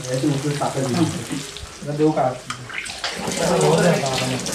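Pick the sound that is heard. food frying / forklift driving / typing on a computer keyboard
food frying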